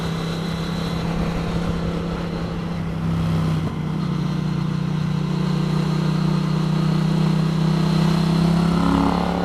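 Yamaha MT07 motorcycle engine with the throttle opening smoothly, a steady mid-pitched engine drone that builds gradually while riding, loud and continuous with no speech.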